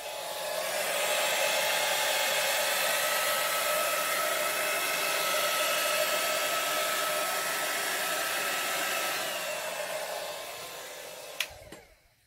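A hair dryer blows air onto gel-stained tiles, a steady, loud, continuous whir running alone for about eleven seconds before cutting off abruptly near the end.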